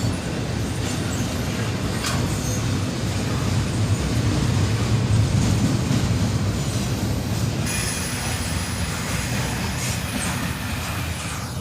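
A freight train of well cars rolls past close by in a continuous loud rumble, with wheel squeal and rhythmic rail clatter throughout.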